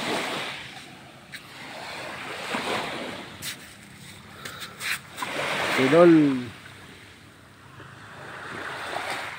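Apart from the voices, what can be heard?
sea waves on the shore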